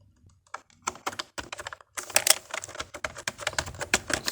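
Fingers tap on a computer keyboard in irregular keystrokes, sparse at first and then a quicker, denser burst of close clicks with no talking.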